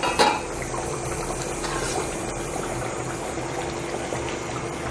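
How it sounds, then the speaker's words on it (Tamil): A pot of Chettinad chicken curry bubbles steadily on the stove, a continuous low simmering wash with a brief clink of the lid at the start, close and fairly quiet, no talk. "நல்லா கொதிச்சிருச்சு பாருங்கள் குழம்பு"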